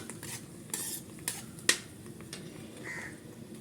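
Curry leaves go into hot oil and are stirred, heard as a soft, low sizzle with a few sharp clicks and scrapes of a utensil against the pan, close and fairly quiet.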